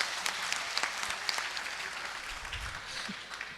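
Applause from the audience at a comedic poetry recital in Hubli, a short, even burst of many hands clapping together under a dense patter without any voices.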